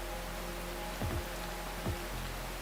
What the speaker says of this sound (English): How about the rain sounds?